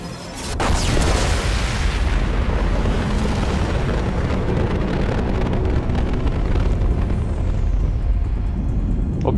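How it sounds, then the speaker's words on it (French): An explosion in the video game Mass Effect 2 starts with a sharp blast, then a loud, sustained roaring rumble of debris and fire that holds steady for several seconds before tapering slightly. "En provoquant l'explosion de l'autre, j'ai annihilé le deuxième."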